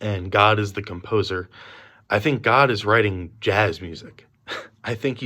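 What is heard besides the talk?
None of the usual background noises is heard.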